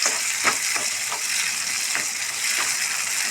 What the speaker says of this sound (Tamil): வரமிளகா போட்டுக்கலாம். தாளிச்சு விட்டுக்கலாம்.